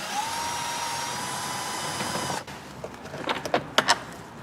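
A power tool whines for about two seconds while removing a 10 mm bolt from a Ford F-series truck door, its steady high tone stopping abruptly, followed by a few sharp metallic clicks and taps close by.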